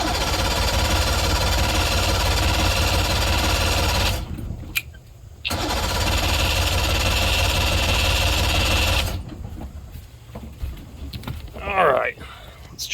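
A party barge boat engine cranks repeatedly without starting, with a loud, steady starter whir in two long bursts split by a short pause, then quieter handling noises afterward.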